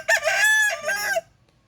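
A single rooster crows once, loud and close, a strained drawn-out call lasting about a second before it cuts off.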